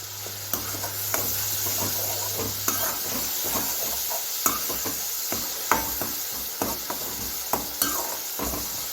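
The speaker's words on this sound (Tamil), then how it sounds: "இந்த மாதிரி நல்லா அப்படியே கலந்து விட்டால் எண்ணெயில் வதங்கிடும்" Bitter gourd stirred and sautéed in oil in a pan for thokku, with a steady soft sizzle and repeated scraping stirs, close and alone.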